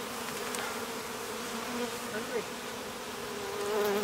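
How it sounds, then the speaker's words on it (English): Bees and flies buzz continuously around an open beehive during an outdoor inspection, a close, steady drone with a few louder passes near the ear. "So the bee's not biting me, but that fly is."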